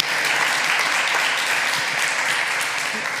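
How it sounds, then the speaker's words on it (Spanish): A live podcast audience at the Estación Podcast 2026 music-industry event in Spain claps steadily and loudly, a dense, even applause that fills the room with no speech over it. "Un aplauso."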